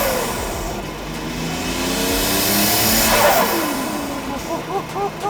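A Nissan Skyline R34 GT-R V-Spec II engine revs and pulls hard as it accelerates, the note rising and sweeping upward over several seconds, loud and close throughout.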